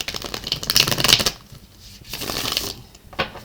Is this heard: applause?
no